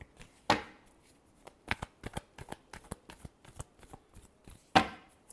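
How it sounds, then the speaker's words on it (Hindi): Tarot cards are shuffled in irregular bursts of crisp riffling and slapping, close and fairly quiet, with two sharper loud snaps near the start and end. "Last shuffle."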